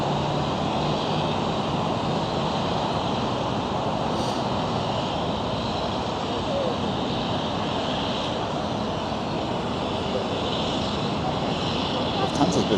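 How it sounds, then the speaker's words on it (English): Jet airliner taking off at Los Angeles LAX airport, a steady broad engine roar heard from an outdoor viewing spot with wind, lasting throughout, while people talk nearby. "everybody can just stand here and watch the planes take off"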